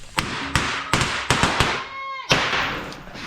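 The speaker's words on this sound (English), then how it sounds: "We get a little wild sometimes, lighting off fireworks" Fireworks lit off at a shop crack in a quick series of sharp pops, about seven close together, followed by a louder final bang with fizzing between.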